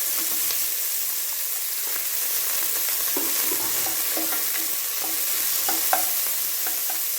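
Onions sauté in a pan for chicken gravy, a constant bright sizzle broken by repeated scraping stir strokes, close and steady with no voices.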